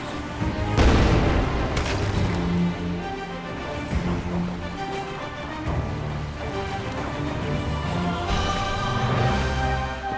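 Heavy booms of cannon fire in the video game South Park: Snow Day on Nintendo Switch land a few times over a dense, busy game soundtrack that never lets up.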